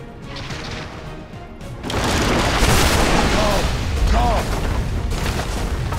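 In Dota 2, a tower takes hits and collapses amid a thick wash of crashing booms and rumbling impacts, building loud and sustained after a quieter start, with a game announcer's voice over it.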